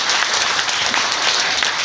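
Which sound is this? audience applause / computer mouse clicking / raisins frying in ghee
audience applause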